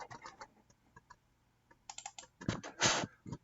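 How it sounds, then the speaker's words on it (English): Mouse clicks while working in AutoCAD, a series of quick close clicks with a busier cluster of sharper clicks near the end, without speech. "So I'm going to double click on it."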